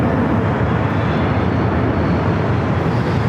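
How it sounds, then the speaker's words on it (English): Aeromexico Boeing 737 MAX 8 departing Los Angeles International Airport from runway 24 left, a loud, steady roar of jet engines at takeoff power, heard alone. "It's a 737 MAX 8, Air Mexico flight 783."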